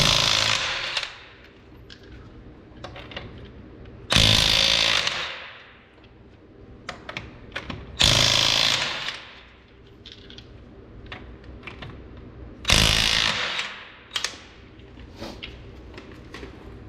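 An impact wrench removes the factory 22mm lug nuts from a Cadillac CTS-V wheel, firing three loud, short rattling bursts about four seconds apart over a quieter background of faint clicks and handling noise.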